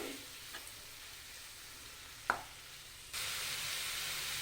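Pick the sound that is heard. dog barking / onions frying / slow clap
onions frying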